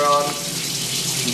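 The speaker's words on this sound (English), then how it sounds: "Turn the water on," Water runs steadily from a tap in a short burst, a close, continuous splashing hiss with no talking over it.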